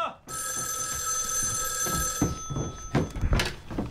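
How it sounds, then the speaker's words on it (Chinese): An old telephone bell rings loudly and steadily at a remote checkpoint post in a Chinese war film, then breaks off into handling noises and clatter. "电话。"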